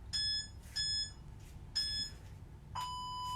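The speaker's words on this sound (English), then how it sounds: "Timer." Workout interval timer beeping during a strength and conditioning session: three short, loud electronic beep pairs in a steady rhythm, then a longer held tone at the end, with no talking.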